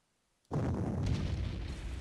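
An artillery shot in the Panzer Corps war game: silence, then a sudden loud boom that swells into a sustained rumbling roar lasting to the end.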